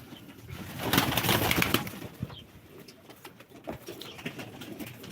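Breeding pigeons coo softly nearby amid rustling and a burst of flapping wings, with faint scuffing sounds in the background, at a live pigeon auction.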